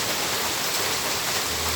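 Rainwater pours and splashes down on both sides of a parking area, a dense, steady hiss of falling water with no breaks and no voices.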